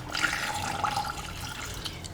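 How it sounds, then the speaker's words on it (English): Two cups of room-temperature water pouring steadily into a blender for a Mexican spaghetti sauce, a continuous splashing rush close up with no talking. "we're going to add 2 cups of water"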